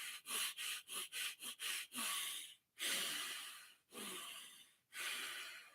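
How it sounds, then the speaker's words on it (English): Heavy breathing through the nose during a deep breathing session, with a quick run of short sharp sniffs followed by several long forceful breaths, close and intimate with no speech. "even when you're doing heavy breathing"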